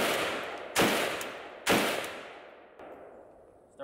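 A Zastava ZPAP M70 AK rifle fires outdoors, two sharp loud shots about a second apart, each trailing into a long echoing decay, followed by a fainter metallic clink and another brief knock.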